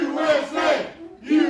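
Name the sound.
wrestling crowd cheering for Old Glory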